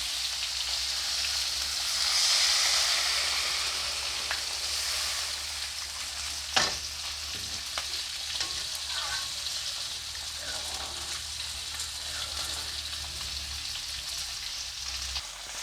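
Water poured onto fried spices in a pan for a vegetable and fish curry with brinjal and potato sets off a steady, close sizzle and bubbling hiss. A single sharp clink of utensil or pan is heard partway through, and nobody speaks.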